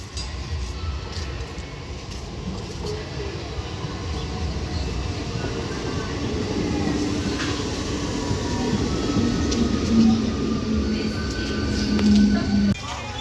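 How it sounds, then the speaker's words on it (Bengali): A train rumbles steadily, its low rolling noise growing louder over time, with faint squealing tones rising toward the end as it pulls into Bandel Junction station. "কিছুক্ষণের মধ্যে আমাদের ট্রেন ঢুকে পড়বে স্টেশন"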